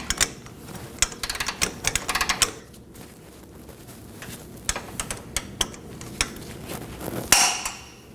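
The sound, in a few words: torque wrench tightening Toyota Corolla control arm bolt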